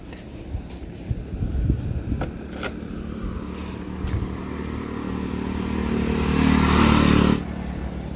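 A parked two-wheeler's engine idles with a steady low rumble, rising in pitch and loudness toward the end before cutting off abruptly, with a few clattering knocks early on.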